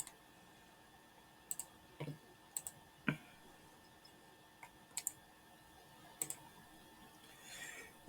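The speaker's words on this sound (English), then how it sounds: "you're just left clicking and moving your mouse" Sparse, faint computer mouse clicks, single and doubled taps scattered at irregular intervals over near silence, close to the microphone.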